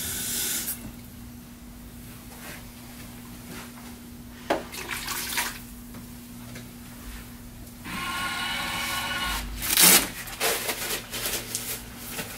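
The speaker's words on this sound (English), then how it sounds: "I'm just going to rinse out your, graduated cylinder." Water runs and splashes while a plastic graduated cylinder is rinsed at a sink, a soft steady hiss with louder gushing bursts near the end, recorded close with no talking.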